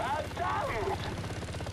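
In the Call of Duty Black Ops video game, a helicopter flies with a steady, low, rhythmic rotor throb while voices talk over it.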